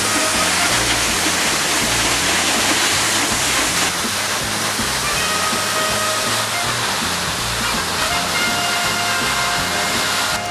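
Falling Water Falls in Tennessee, a waterfall pouring in a steady, loud, broadband roar that fills the whole stretch without a break, heard from close by with no voices.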